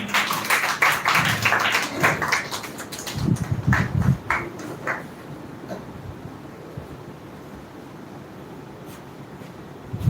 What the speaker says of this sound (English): Now it's time to call the 12th speaker of the day, Miss Akshita. Clap for her